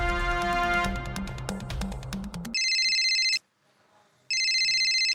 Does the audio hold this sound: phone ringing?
yes